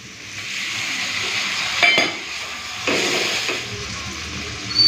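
Chopped tomatoes tipped into a hot frying pan, a loud sizzle that flares up at each addition and settles into a steady hiss between, with stirring noises.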